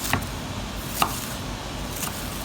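A knife cuts through an onion on a cutting board in three distinct, evenly spaced chops against a quiet kitchen background, with no talking.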